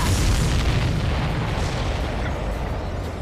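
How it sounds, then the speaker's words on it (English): A deep, rumbling explosion in the video game Ace Combat 7, a loud low-heavy boom that decays slowly across a few seconds with no talk over it. "Did you see that explosion?"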